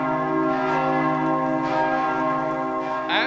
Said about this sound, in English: I just love these bells. They really let you know that you are in Europe.